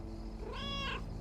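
A cat in the video game Lake gives a single short meow over a low steady background hum, moderately close and clear.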